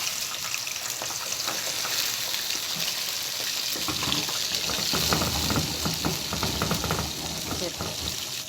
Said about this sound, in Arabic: ونسيبها تتصفى وهننزلها في الزيت.